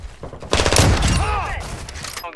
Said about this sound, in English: God, that's like five shots.